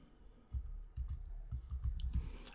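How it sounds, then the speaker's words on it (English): Computer keyboard typing, a run of quick close key clicks in an uneven rhythm, ending with a firmer keystroke like the return key, with no talking. "By typing in computer and just hitting return."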